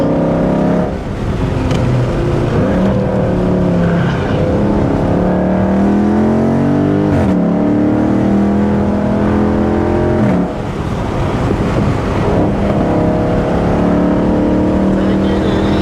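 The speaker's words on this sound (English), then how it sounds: "Gotta get the car warmed up first." A Toyota A90 Supra engine idles and revs while warming up at a track meet, a loud, close drone with repeated rising and falling blips, and voices talking over it in places.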